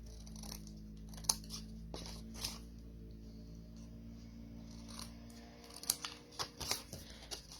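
Scissors cutting and mitering paper pieces for a handmade Christmas box, soft and close, with scattered quiet snips that cluster more densely toward the end.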